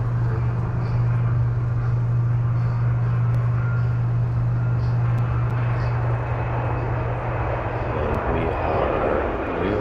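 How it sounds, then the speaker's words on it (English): The Cosmic Girl carrier aircraft, with the LauncherOne rocket slung under its wing, takes off from a runway: a steady, loud jet roar with a strong low hum that holds throughout and rises slightly toward the end. "Cosmic Girl is now on the runway taking off."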